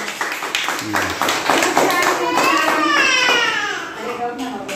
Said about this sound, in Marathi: सर्वांसाठी टाळ्या वाजवा